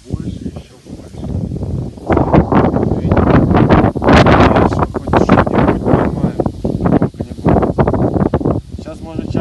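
Strong wind buffeting the microphone at a lake during carp fishing, a loud continuous roar with heavy gusts throughout, someone talking over it.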